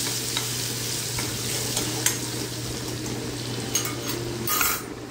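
Crushed garlic sautéing in a pan for a sandge rassa curry, a steady close sizzle with scattered light utensil scrapes and clinks of stirring, louder near the end.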